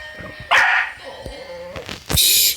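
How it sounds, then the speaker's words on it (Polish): A dog barks sharply a couple of times, loud and close, amid other short noises. "Mój pies jeszcze szczeknął."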